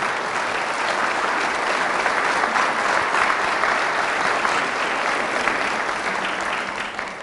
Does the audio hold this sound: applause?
yes